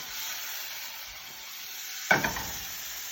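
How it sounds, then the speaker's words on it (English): Arborio rice poured all at once into a pan of hot oil with garlic gives a sudden sharp sizzling burst that rises over a quiet background hiss and then settles. "that's the point we're gonna throw our arborio rice into the pan"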